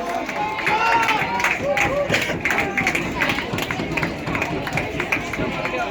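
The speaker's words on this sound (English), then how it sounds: "Big round of applause for the small eggs." Steady applause from a crowd at a comedy football match, with claps pattering throughout under voices and general hubbub.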